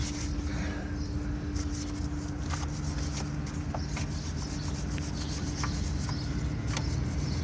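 Someone scrubs corrosion off a battery terminal on a 2005 Honda Civic EX, producing a steady, close rasping rub with brisk back-and-forth strokes over a constant low hum, with no talking.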